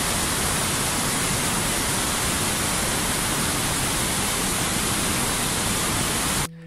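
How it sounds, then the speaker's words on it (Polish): The Kamieńczyk waterfall roars after heavy rainfall, a dense, loud, unbroken rush of falling water that fills the whole stretch and then cuts off abruptly at the end. "Tak na przykład wyglądał dziś rano wodospad Kamieńczyka"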